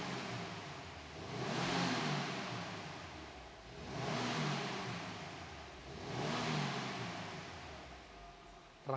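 A 2023 Subaru WRX boxer engine with a standard exhaust revs in three smooth rising-and-falling swells, steady and fairly close, with no talk over it.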